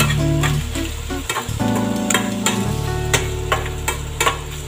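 Chicken intestines for adobo fry in a pan with a steady, loud sizzle, punctuated by scraping and stirring clinks.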